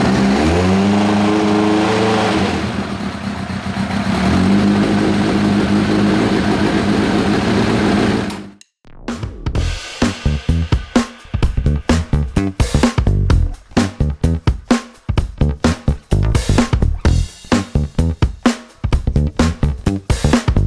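A 1990 Kawasaki ZZR1100 motorcycle engine runs on choke, first with a steady, loud hum and then with a rapid, uneven sequence of sharp pulses and revs, close by and without speech.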